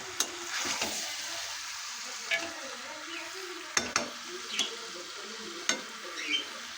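Mutton fries and is stirred in a pan until browned, a quiet steady sizzle broken by several sharp spatula scrapes and clinks against the metal.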